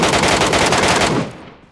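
Rapid automatic gunfire in the video game Metro Royale, a loud, dense burst of shots lasting about a second before trailing off.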